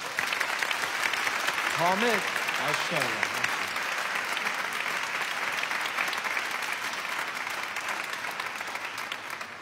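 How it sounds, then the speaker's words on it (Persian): Sustained audience applause fills the whole stretch, steady and fairly loud, with a voice speaking briefly over it near the start. "حالا تشویق کنید"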